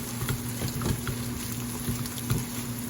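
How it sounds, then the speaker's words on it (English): A close, steady sizzle crackles and pops continuously as an egg fries over high heat in a very hot pan for fried rice. "it's almost like frying the egg real quick"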